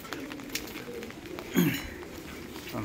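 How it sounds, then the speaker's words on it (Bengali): Female pigeons sheltering in heavy rain give a single soft coo midway, faint against a steady wash of rainfall. "এখানেও কিছু পায়রা রয়েছে সব ফিমেল পায়রা"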